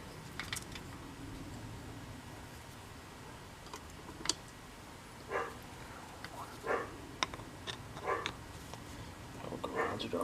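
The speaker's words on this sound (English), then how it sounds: "Oh, garage dog." A dog barks in a garage. A few short, fairly distant barks are spaced across a quiet room full of scattered ticks and clicks.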